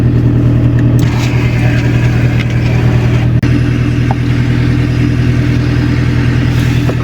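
A car engine runs close by in a steady, continuous drone, holding an even idle with no distinct revs, alone and without talk.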